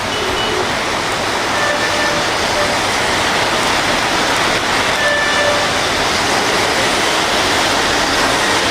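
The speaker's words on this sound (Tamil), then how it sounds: "சென்னை மற்றும் புறநகர் பகுதிகளில் காற்றுடன் கனமழை." Heavy rain with wind in Chennai and its suburbs: a loud, dense, unbroken roar of rainfall with no talk.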